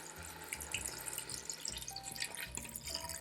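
Vegetable broth pours steadily into an Instant Pot for a vegan black bean soup, a continuous liquid splashing and gurgling with light metallic clinks, no talking.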